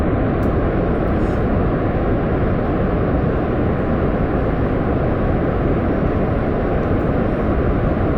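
Roaring rocket liftoff with boosters in Kerbal Space Program, a loud, steady broadband engine rumble that holds without a break.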